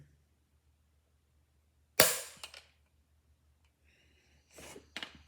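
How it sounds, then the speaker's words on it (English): A Beretta A300 Ultima Patrol shotgun's trigger breaks with a single sharp, crisp snap, followed later by a couple of faint clicks and rustles in a quiet workshop. "I've never done a trigger pull test on a shotgun"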